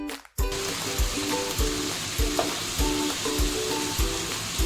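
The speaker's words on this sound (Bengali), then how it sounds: "হাফ চামচ আদা দিলাম দিয়ে এটাকে আস্তে আস্তে এইভাবে কষিয়ে নেব" Ginger and cumin sizzle steadily in a pan while being stirred slowly for chicken egg rolls, a close, continuous frying hiss with rhythmic scraping strokes of the spoon and no talk.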